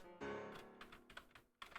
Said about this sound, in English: You hear my key, but it doesn't sound like a clanky keyboard.